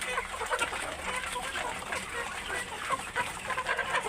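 Giant-variety chickens on a farm make a busy, continuous chorus of clucks and calls, moderately loud with dense overlapping voices and background farm noise.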